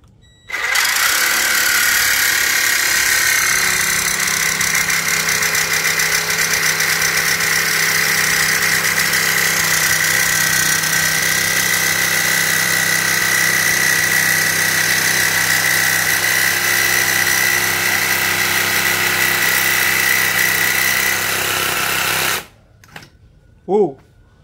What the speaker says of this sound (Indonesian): Uji coba terakhir kita akan motong besi dengan ketebalan 4 mm.